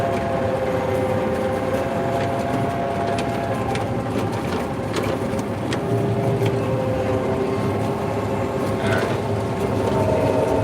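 Combine harvester cutting soybeans in a field, a loud steady mechanical rumble and whir with clattering from the header, heard from inside the machine, continuous with no speech.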